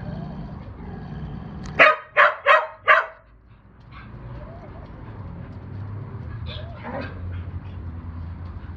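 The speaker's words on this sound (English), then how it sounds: "That's a good dog, Mozi" A dog barks four times in quick succession, loud and close, followed by quieter outdoor background noise and a few faint distant sounds.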